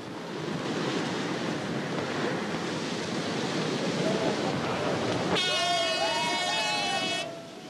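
Surf breaking on the shore at Sylt during a 1983 windsurfing race start, a steady broadband wash with strong wind noise on the microphone, joined near the end by a high whistling tone.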